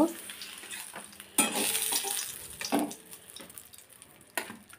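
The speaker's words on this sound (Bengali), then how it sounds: "এখানে পটল ভাজা প্রায় হয়ে এসছে আমার" Pointed gourd (potol) slices frying in a pan, a soft steady sizzle broken by a few louder stirring scrapes, fairly quiet and close.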